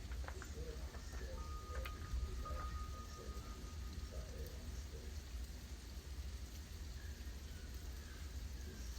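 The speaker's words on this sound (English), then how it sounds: "Freezing rain." Freezing rain falls during the first winter storm of 2025 in Berea, Kentucky, a faint, steady patter and hiss with scattered small taps continuing throughout.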